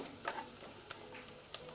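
Chopped beans and carrot sizzling in a pan for a Tamil-style poriyal, with faint frying hiss and a few light scrapes of stirring, quiet and close.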